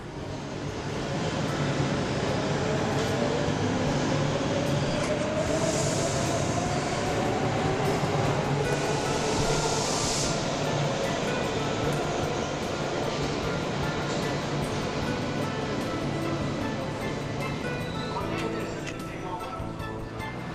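Tehran metro train ride: a steady, loud rumble and rushing hum of the moving carriage running the whole time, with faint higher screeches and clicks on top and no clear voices.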